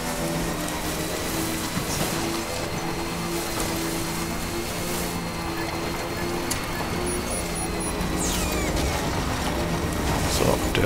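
Steady rain in the Death Stranding video game, a dense even hiss of drops spread across the whole clip at moderate loudness, with low mechanical hum and faint game sounds underneath.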